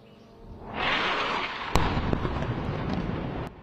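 Airstrike explosions from bombing in Gaza: a loud, far-off rumbling roar swells up and holds, with one sharp blast cracking through midway before the din drops away.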